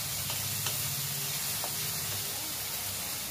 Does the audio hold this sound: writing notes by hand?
no